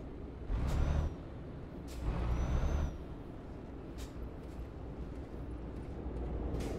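Truck air brake in Euro Truck Simulator 2 on a dangerous Peru mountain road: two loud hissing bursts of about a second each, over a steady low engine rumble.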